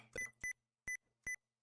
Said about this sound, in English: I have sticky keys on. That's why you hear the beep.